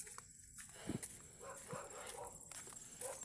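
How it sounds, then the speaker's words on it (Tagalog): A dog barks a few times in the distance over steady outdoor background noise, faint and irregular. "Narinig yan guys yung aso."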